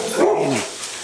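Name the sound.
dog barking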